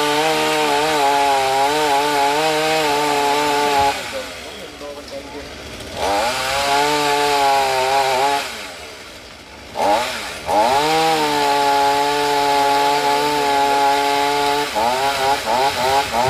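Chainsaw cutting branches of a large Xà Cừ tree beside a house roof, loud and close, with a sustained buzzing whine that dips under load and revs back up several times.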